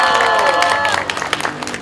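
Crowd at a candlelight political rally in Seoul breaking into applause and a few cheers, loud dense clapping that thins into scattered claps, with a voice speaking over the start.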